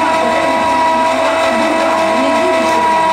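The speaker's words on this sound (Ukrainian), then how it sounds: "Саме на останній ставимо вже подрібнені кришки, чекаємо відповідної температури і починаємо виготовляти мильницю." A plastic extruder melting shredded bottle caps to make a soap dish drones loudly and steadily with a constant mechanical whine and hum, no talk over it.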